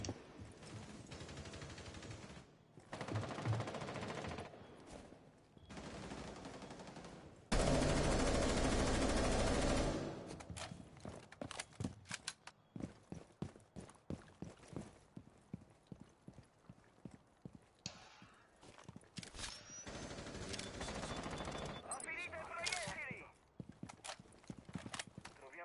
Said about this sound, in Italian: Chi cazzo è che mi spara?